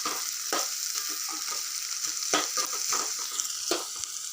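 Turmeric curry sizzles steadily in hot oil while a spoon stirs and scrapes the pan, the frying hiss continuous with soft irregular knocks throughout.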